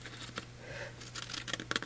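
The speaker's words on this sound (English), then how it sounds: "Going to bring in some scissors and trim off the excess." Scissors trim excess paper from a card in a series of soft, close snips and rustles that pick up toward the end, faint against a quiet room.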